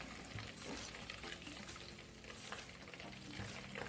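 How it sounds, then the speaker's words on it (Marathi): Homemade ghee, nearly finished, crackles and sizzles densely and steadily in the pan, close and continuous with no voices. "आपल्या तुपाचा असा जर आवाज आला तर समजायचे आपले तूप होत आलेले आहे"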